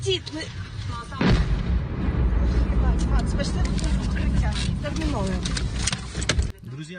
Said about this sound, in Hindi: लोग वहां से गुजर रहे थे और इसी बीच ये बड़ा धमाका यहाँ पर हो जाता है